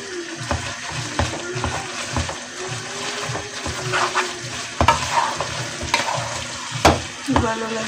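Ingredients for chicken spaghetti stirred in a frying pan, with a steady sizzle and repeated scraping strokes of a utensil, plus a few sharper clinks against the pan, loud and close.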